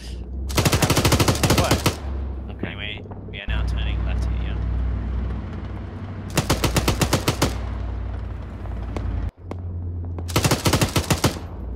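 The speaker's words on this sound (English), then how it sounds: "I see the shots coming in" Loud sustained bursts of automatic gunfire in Arma 3, three long rapid-fire strings separated by pauses, with a vehicle rumble underneath and people talking between bursts.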